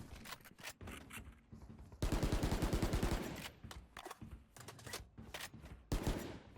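Bulldog rifle gunfire in the shooter Valorant, heard as rapid bursts and sustained volleys of sharp shots, with one long dense stretch, loud and close with brief gaps between bursts.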